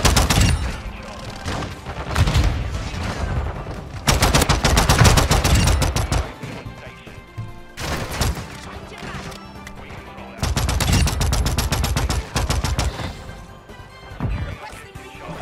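Gunfire in Call of Duty: Modern Warfare II, loud close bursts of rapid automatic shots in long sustained stretches separated by short lulls, with game effects and some voice underneath.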